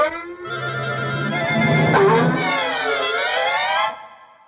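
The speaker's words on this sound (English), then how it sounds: "Now imagine Tom hanging from his whiskers and the unavoidable fall as each one is plucked from his cheeks." Cartoon sound effect for a cat dangling by his whiskers and falling as they are plucked, heard as a loud warbling, wavering tone that bends and slides for about four seconds before cutting off, with no talking.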